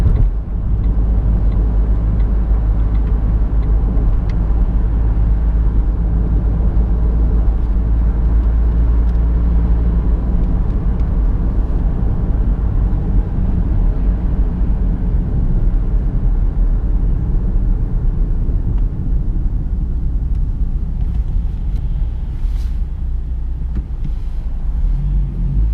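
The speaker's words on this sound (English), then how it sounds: "Plenty of power in it for a small diesel engine." Steady low road rumble from inside a 2007 Vauxhall Astra 1.3 CDTi 16v small diesel car on the move, a constant droning cabin noise with no talk, continuous throughout.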